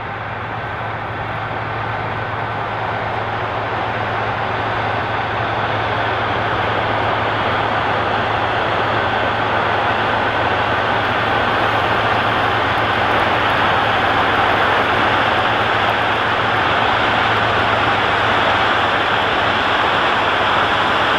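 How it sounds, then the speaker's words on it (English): A John Deere 9RX 640 wide-track tractor pulling a tillage implement through a field in fall, a continuous loud engine drone with a steady low hum and broad rumble, unbroken and close. "It's a cool tractor and tillage implement to see working out in the field."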